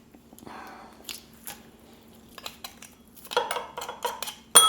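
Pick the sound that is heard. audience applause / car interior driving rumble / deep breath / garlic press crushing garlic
garlic press crushing garlic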